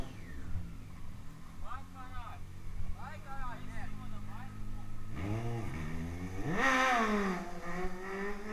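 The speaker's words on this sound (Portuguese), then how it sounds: "A moto sobe aqui, ó." A motorcycle revs as it climbs a trail, its engine note rising and falling in bursts, with a louder, closer roar near the end; people shout and talk throughout.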